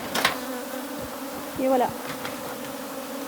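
Honeybees buzzing around a hive after being shaken off their frames, a steady dense hum close by with a brief louder swell, while a person speaks a couple of words.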